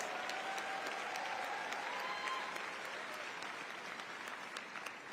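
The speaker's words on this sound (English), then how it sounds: "let's give them a big, big round of applause" Applause from a large convention audience for union organizers and new affiliates, a steady, distant roar of clapping throughout, faint and even with scattered sharper claps.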